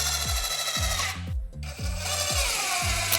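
A power drill drives screws into wooden table boards fastened to stringers. It makes a loud, close, rapidly pulsing mechanical whir that repeats steadily, with a short dip partway through.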